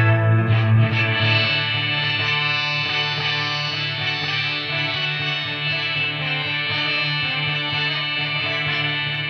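An electric guitar plays through a quirky sitar-effect pedal on a custom pedalboard, giving a buzzy, droning, sitar-like twang with rich distortion and chorus, sustained and loud throughout with no talk.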